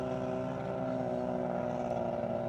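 Several motorboats on a river near Kota Bharu open up their throttles together, a steady loud drone of engines and propellers with layered harmonic tones holding constant throughout, no voices.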